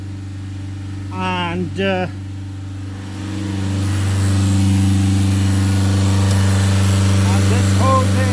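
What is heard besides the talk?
Nissan Note 1.5 dCi diesel engine running at 3000 RPM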